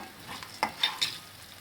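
Ginger, green chili and garlic paste fries in a pan with nuts. A soft sizzle runs underneath three sharp, close stirring scrapes.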